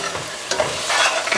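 Two very large green chilies frying in a pan for beef bhuna: a bright, steady sizzle with stirring scrapes, heard close and fairly loud, with no talking.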